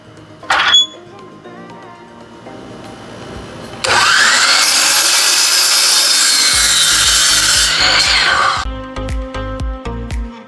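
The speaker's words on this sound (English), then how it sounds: "we're just going to cut them here on the miter saw" A miter saw spins up and bites through a wooden board for a small Christmas project, giving a loud roaring cut that lasts several seconds. After the cut come sharp knocks and handling clatter, and there is a brief thump near the start.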